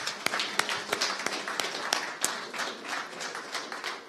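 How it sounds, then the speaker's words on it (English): Applause from an audience at a community political forum in Sandy Point, a steady wash of clapping with a few sharper individual claps standing out, moderately loud and continuous throughout. "Let us give her a round of applause."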